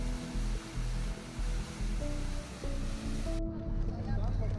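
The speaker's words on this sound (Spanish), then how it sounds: "ese chorro de agua tranquiliza" The water jet of the Merlion fountain at Marina Bay, Singapore, makes a steady, loud rushing roar of falling water with wind buffeting the microphone, continuous throughout and mixed with background bustle.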